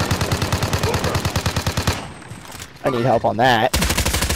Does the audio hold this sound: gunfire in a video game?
yes